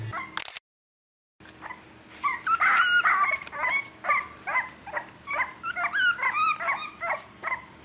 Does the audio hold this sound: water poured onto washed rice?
no